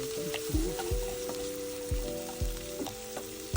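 Dal frying in an aluminium kadai, a steady close sizzle with several scraping stirs breaking through in a loose rhythm, no voices.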